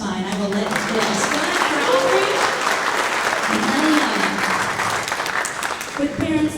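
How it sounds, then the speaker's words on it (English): Steady applause from a high school spring choir concert audience fills the room, continuous clapping with a voice faintly speaking underneath. "Parent, you can clap, that's fine."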